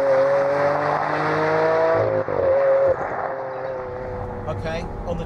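Lamborghini Aventador with a 6.5-litre V12 engine, running on a rain-soaked track: a loud, sustained, steady engine tone that shifts pitch briefly midway and continues alone without speech.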